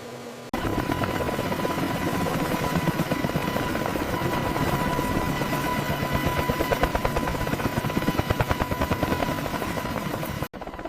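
A Boeing AH-64 Apache helicopter beats out loud, rapid, steady rotor thumps over a constant engine whine, starting abruptly and running unbroken until a brief cut near the end.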